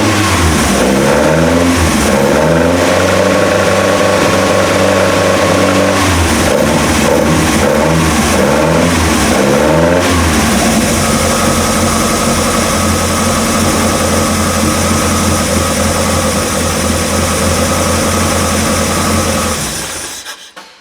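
A car engine with its throttle bodies newly refitted fires up and revs hard several times in rising and falling sweeps, then settles into a loud, steady idle before cutting off at the end.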